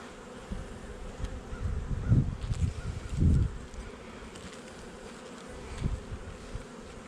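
Honey bees buzz steadily at an open double-deep hive during a beekeeping inspection, a continuous close hum with a few louder swells as bees pass near.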